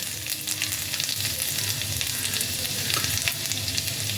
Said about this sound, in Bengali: তেলটা গরম হয়ে গেছে। এর মধ্যে আমি দিয়ে দেব অল্প একটু রসুন কুচি